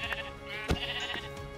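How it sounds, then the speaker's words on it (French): Sheep in Minecraft bleat in short, nasal, wavering calls, with a couple of quick bleats around a sharper thump-like hit, all fairly close and clear over light game background noise. "Donc moi je vais tuer des moutons pour récupérer de la laine"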